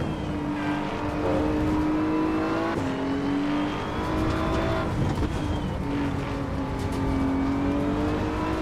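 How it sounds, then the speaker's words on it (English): A race car in a driving video game with an exhaust that sounds holed, its engine droning and revving steadily with rising and dropping pitch through gear changes, with faint tire squeal, loud and continuous throughout. "Sounds like there's a hole in my exhaust."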